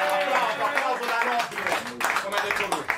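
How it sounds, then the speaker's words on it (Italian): A small audience claps briefly during a freestyle rap game reaction, a scattered patter of hands sitting beneath a voice talking over it. "Fate un applauso per questo."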